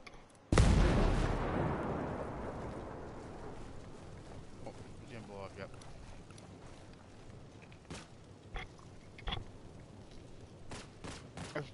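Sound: explosion from a video game

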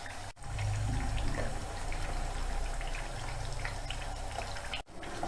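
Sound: chakli frying in hot oil

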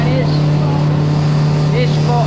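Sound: loud Disney Springs transport boat engine

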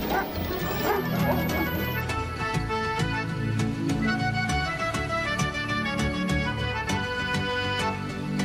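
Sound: dogs barking, sound effect on radio show

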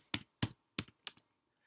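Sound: typing on a computer keyboard

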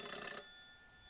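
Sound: telephone ringing in the video game Shin Kamaitachi no Yoru

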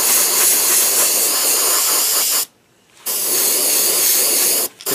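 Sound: Iwata airbrush spraying transparent paint

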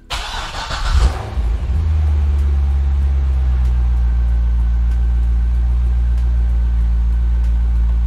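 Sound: car engine starting

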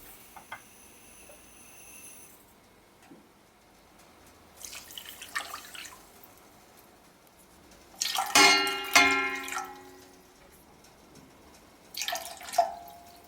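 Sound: water poured into a pot with sugar for syrup

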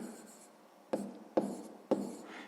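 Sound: writing with a pen on paper

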